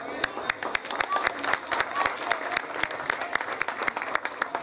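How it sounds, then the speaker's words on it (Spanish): An audience at a World Food Day event applauds with distinct, rhythmic claps, individual hand strikes standing out over a lighter crowd murmur, moderately close and fairly quiet. "a quienes recibimos con fuertes aplausos"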